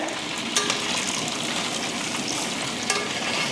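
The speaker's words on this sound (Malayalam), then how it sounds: "അതിന് നമ്മൾ സൺഫ്ലവർ ഓയിൽ ഒഴിക്കുകയാണേ" Sunflower oil crackles and sizzles steadily in a hot pan while preparing fried rice, with faint clinks of a utensil against the pan over the continuous frying hiss.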